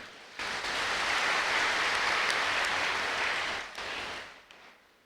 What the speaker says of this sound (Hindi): अपने लिए ताली बजा लो।